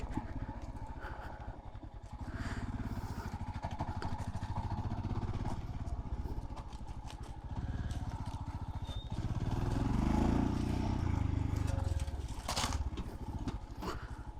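Loud, close Royal Enfield Scram 440 motorcycle engine droning and revving unevenly while riding off-road over rough ground, with rattling and clatter throughout.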